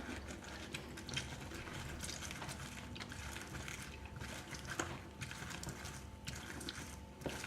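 Lemons squeezed for a juice concentrate make a crunchy, grinding, ratcheting sound in repeated bursts, close and fairly quiet, with no talking.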